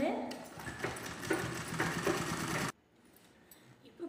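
A sewing machine runs in a loud burst while stitching a baby diaper, then cuts off abruptly and leaves a quiet room with faint handling sounds.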